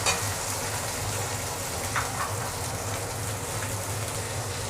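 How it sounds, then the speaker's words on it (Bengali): Cubed potato, brinjal and pointed gourd frying in a pan for a Bengali fish curry, giving a steady, close hiss and sizzle that runs unbroken throughout with no voices. "আলু, বেগুন, পটল আমি কিছুক্ষণ ভেজে পরে আমি মূলো দেব"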